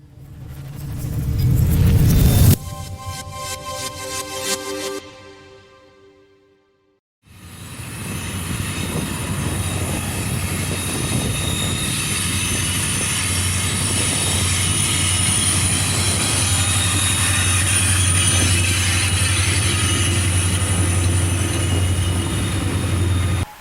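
A freight train rolls past close by after a brief loud rush and pause, a long steady roar of wagons with a sustained wheel squeal.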